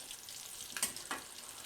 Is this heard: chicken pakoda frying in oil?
yes